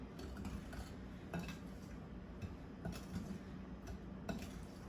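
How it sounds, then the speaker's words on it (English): A spoon stirs gluten-free flour into chocolate chip cookie dough in a bowl, giving soft repeated scraping and light clinks against the bowl at a steady, unhurried pace, fairly quiet and close with no talking. "I like to put 1 cup in at a time and give it a stir"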